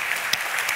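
Applause from an audience at a talk on global warming, a brief steady wash of many hands clapping, fairly loud and dense throughout with no distinct single claps.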